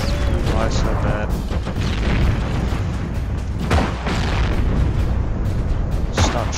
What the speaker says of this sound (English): Stop shooting at me, you fucking tanks.